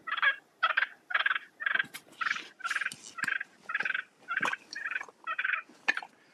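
Ceramic turkey friction call worked with a waterproof striker, producing a run of about a dozen raspy, evenly spaced yelps and clucks, close and moderately loud with no voices.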